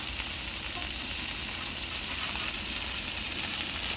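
Smash burger patties frying on a hot griddle, a loud, close, continuous sizzle with dense crackling that holds steady throughout, no talking.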